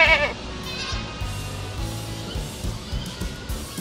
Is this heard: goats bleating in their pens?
yes